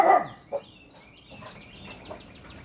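A dog gives one loud close bark followed by a softer yelp, then quieter faint barks and whines trailing off in the background.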